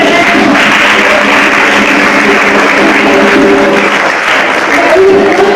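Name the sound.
audience applause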